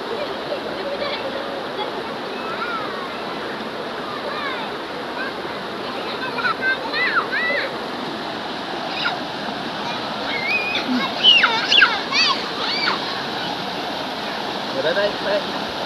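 Shallow, knee-deep river water flows steadily at Sungai Ulu Bendul while people bathe, a broad continuous rushing wash with occasional splashes and voices in the background.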